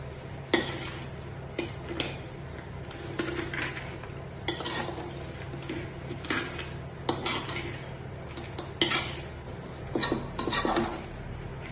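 Utensil stirring crab curry with curry masala in a pan, with repeated scraping and clinking against the metal and a low sizzle running underneath, steady and close with no voices.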